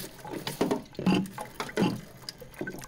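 Tap water splashes over bird cage perches as they are rinsed, an irregular close sequence of gushing and spattering bursts with no talking.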